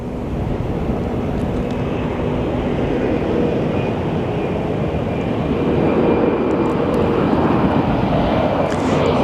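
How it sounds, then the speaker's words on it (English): A Delta Airlines jet arriving at Phoenix Sky Harbor airport makes a continuous, loud engine roar with a faint whine, steady throughout and slightly building near the end. "we have a Delta Airlines coming in"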